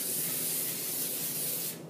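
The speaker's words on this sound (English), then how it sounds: "Okay, so I'm just spraying it with pan so the cake doesn't stick." Cooking spray hisses from a can into a small cake pan in one continuous, close, loud burst lasting under two seconds before stopping.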